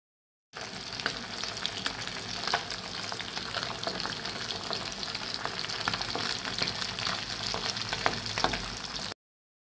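Hilsa fish gills and belly pieces frying in hot oil, a steady close sizzle with faint stirring clatter running unbroken throughout, no talk.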